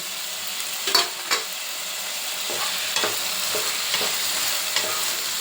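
Curry leaves and coriander are stirred into a simmering carrot, capsicum and potato curry, with a constant close sizzle broken by several sharp spoon scrapes and clacks against the pan, and no talking.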